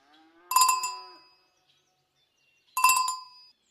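Cows lowing at milking time on a pasture farm: two separate drawn-out moos, each about a second long, close and clear with silence between them.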